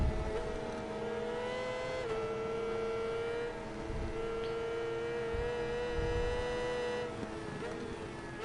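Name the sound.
racing vehicle engine noise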